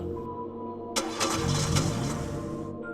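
A jeep engine cranks and sputters on a lonely road at night, a low grinding starter turning over for a couple of seconds amid a steady background hum, without catching into a running idle.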